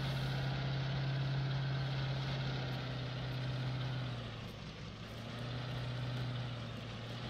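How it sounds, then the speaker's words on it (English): Articulated tractor engine in Farming Simulator 19, a steady loud droning rumble with a strong low hum that dips briefly around the middle and then resumes, with no talk over it. "it's a little bit different driving an articulated tractor."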